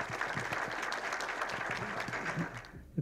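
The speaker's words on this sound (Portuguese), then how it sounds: "Eu pediria mais uma salva de palmas ao nosso palestrante" A seated audience applauds a speaker at an aviation lecture, a steady dense clapping that fades near the end with a final clap.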